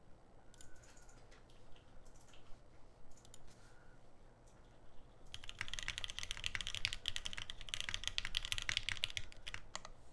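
Rapid, continuous typing on a mechanical keyboard, dense clicky keystrokes starting after a few quieter taps, close and fairly loud.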